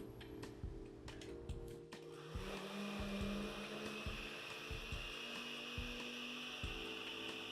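A blender runs with a steady motor whine and churning hum, blending a thick mixture with added water, preceded by a few light ticks and clicks before it kicks up louder.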